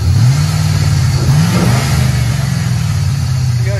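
A Chevy 6.0L V8 truck fitted with shorty headers, a cold air intake and a Spectra exhaust revs loudly and close by, holding a deep throaty rumble with a brief rise in the middle.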